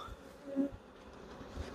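Honey bees buzz steadily at an open hive while a beekeeper works a colony that has raised many queens, a close, continuous insect drone with slight swells in loudness.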